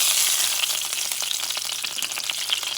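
Cod fish fries in a pan with a steady, loud, close sizzle, a continuous hiss dotted with rapid crackles throughout.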